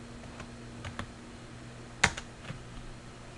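A single sharp key press on a computer keyboard, struck once near the middle with a few lighter taps around it, close and fairly quiet.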